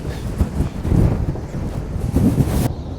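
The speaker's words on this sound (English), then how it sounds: "If it's not waves taking my boxes, it's the bloody wind." Strong wind on a rough Northumberland shore during cod fishing, buffeting the microphone in loud, uneven gusts that swell and drop, ending abruptly.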